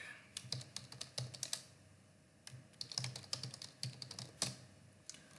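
Computer keyboard typing a Python print statement: quick bursts of close, crisp keystrokes, some pauses between them, with no speech.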